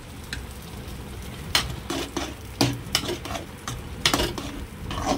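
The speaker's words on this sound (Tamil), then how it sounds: "இப்போது இதை வதக்குனதை எடுத்து அந்த வேக வச்ச சிறுபருப்பு சுரக்காவோட கலந்துடலாம்" A sautéed mix is stirred into cooked moong dal and bottle gourd in a pot. Several close scraping strokes of a ladle sound over a soft bubbling sizzle.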